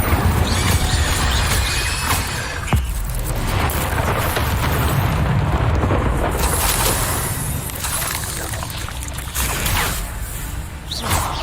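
The Incendio fire spell is cast in Hogwarts Legacy on PS5: a loud, continuous roaring rush of flame that fills the whole stretch, with crackling bursts and a sharp hit partway through.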